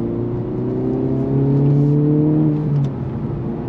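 The engine of a 2024 Acura Integra Type S with a manual transmission revs steadily. It swells to a higher sustained pitch midway, then eases back, heard loud and close from inside the car with no talking.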